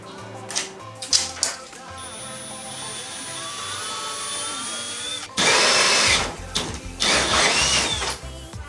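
Power drill boring holes into a car bumper, whining in steady bursts with a sustained high tone, then harsher grinding bursts as the bit cuts through, close and fairly loud.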